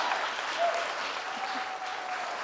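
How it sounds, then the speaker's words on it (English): Audience applause at a children's charity award ceremony, dense steady clapping filling the room for the whole stretch with no voice over it. "let's give him a round of applause."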